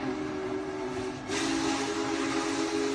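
Whistle of a heavy steam train built to haul large loads across mountains, a loud continuous tonal blast with steam hiss swelling partway through, heard alone without talk.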